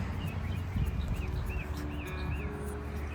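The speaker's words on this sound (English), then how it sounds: "I hear you, pretty bird. I hear you." Light bird chirps and short whistled calls drift over a low, steady background hum along a garden pathway among rose bushes, faint and somewhat distant, repeating every half second or so.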